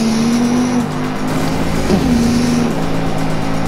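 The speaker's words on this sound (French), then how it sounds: "Eh, regarde, dérapage." A car drifts through a corner in the racing game Need for Speed Rivals, its tires squealing in a long sustained wail that dips and returns over a steady engine roar, with no speech.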